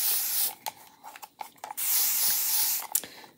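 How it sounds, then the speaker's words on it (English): A hand spray bottle mists plain tap water in a few close hissing bursts, the longer sprays spaced between brief pauses and small handling noises. "Okay, so I'm going to spray it with just water."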